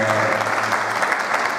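Steady clapping from an audience fills the room, honoring Orlando at a presentation event for the Gymnastic Studio Fondi team, with a faint voice briefly audible beneath the continuous applause.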